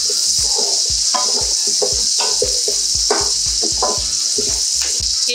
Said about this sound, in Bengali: সবজিগুলোকে আমি হালকা ভেজে নিয়েছি।